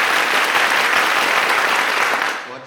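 Loud, dense applause from a symposium audience clapping together, a continuous wash of many hands that stays strong throughout and tapers off at the very end.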